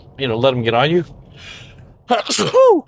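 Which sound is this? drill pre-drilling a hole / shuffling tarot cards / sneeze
sneeze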